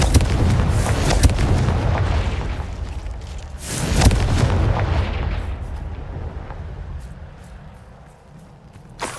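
Fiery spell blasts from the Confringo curse in the video game Hogwarts Legacy, two loud booming explosions with crackling bursts that trail off into a fading rumble.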